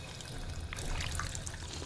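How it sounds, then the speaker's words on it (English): Water being drunk in the video game Fallout 4: a brief, quiet liquid pouring and trickling effect heard alone with no talking. "So, just drink some water."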